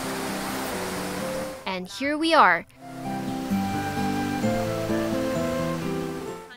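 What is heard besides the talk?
waterfall water sound, Ng Tung Chai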